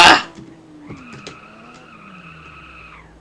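Tires skidding and screeching on a BMW in the Car For Sale Simulator game, a loud burst at the start followed by a long, steady rubber squeal that holds for about two seconds before fading out.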